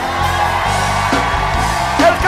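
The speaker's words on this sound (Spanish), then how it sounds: "un grito de gloria para Jesús" A church congregation shouts and cheers in praise of Jesus, a dense continuous wash of voices with whoops rising near the end.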